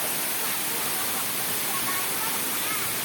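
A waterfall in Ubon Ratchathani, Thailand, roars as a loud, steady, unbroken rush of water from start to finish.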